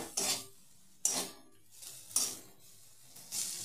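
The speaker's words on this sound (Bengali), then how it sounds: "দেখুন আমি হলুদ দিয়ে ফুলকপি, আলু এবং বিনস এগুলোকে খুব ভালোভাবে ভেজে নিচ্ছি" Cauliflower, potato and beans with turmeric tossed in a frying pan, four distinct metallic scrapes and clinks of a utensil against the pan at roughly one-second intervals, close-up and moderately loud.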